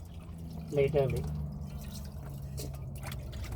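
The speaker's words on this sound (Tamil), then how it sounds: "லைட்டாக தண்ணி இப்படி எடுத்து இதில் ஊற்றி" Water is poured lightly into a vessel to rinse off soap while washing utensils inside a truck in Europe, a short splashing trickle heard close by with a person talking over it.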